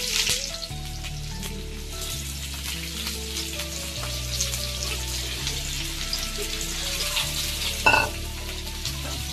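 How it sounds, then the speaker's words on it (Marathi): Sliced onion hits hot oil in a pan and sizzles steadily, close up, with occasional stirring clinks, no voices. "तेल आता आपलं चांगलं तापलेलं आहे। ह्याच्यात आपण आता ऍड करूया उभा चिरून घेतलेला कांदा।"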